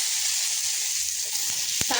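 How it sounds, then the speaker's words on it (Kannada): Potatoes fry in a pan with a steady, close sizzling hiss, joined near the end by a brief utensil clatter. "ಪೊಟೆಟೊ ಫ್ರೈ ಮಾಡ್ಕೊಳ್ಳೋಣ"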